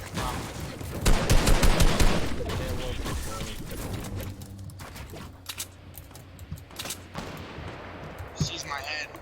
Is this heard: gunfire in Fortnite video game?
yes